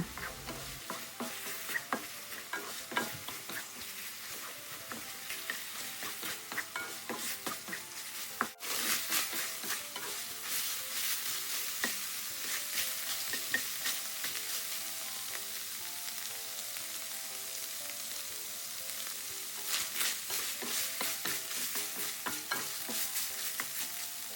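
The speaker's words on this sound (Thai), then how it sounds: "ส่วนพี่อ้อไม่ได้ตักออกนะคะ แค่ผัดไปเรื่อย ๆ ไม่นานน้ำก็เริ่มงวดลงแล้วค่ะ" Minced pork with garlic and pepper stir-frying in a pan, a steady close sizzle with continual scraping and tossing strokes running throughout without pause.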